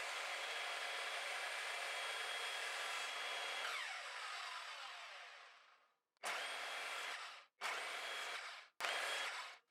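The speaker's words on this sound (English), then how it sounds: "I got the cleanest cuts I've ever had with my miter saw. This one is a 60-tooth crosscut blade" Miter saw fitted with a new 60-tooth CMT crosscut blade slicing walnut boards: a loud, sustained whining cut lasting several seconds, then the motor winding down, followed by three shorter bursts of the saw spinning up and cutting again.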